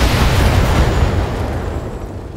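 Mech weapons fire and explosions in the BattleTech video game form a loud, continuous wall of booming, rumbling blasts that slowly fade toward the end.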